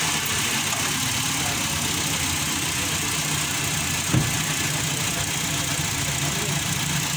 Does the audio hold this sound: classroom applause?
no